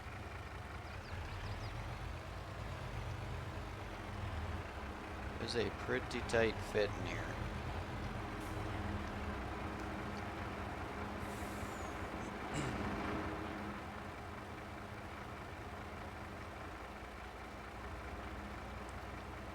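A truck in a farm simulation game rumbles along with a low, steady engine drone, topped by a sharp hiss like an air brake, while someone talks over it.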